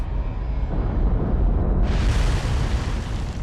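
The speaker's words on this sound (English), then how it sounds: "You got cargo explosion and everything." A ship's cargo explodes in the naval combat game War on the Sea, a loud, sustained roaring blast that rumbles deeply and swells brighter partway through, with no voices over it.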